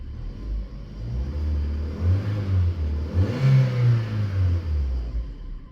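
A cheap Vauxhall Astra engine revs in a few rising and falling throttle blips over a steady low idle rumble, close and fairly loud, with no talking.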